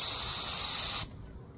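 A spray gun spraying Versacoat thinned with acetone and mixed with custom pearls, a loud close steady airy hiss that cuts off abruptly after about a second.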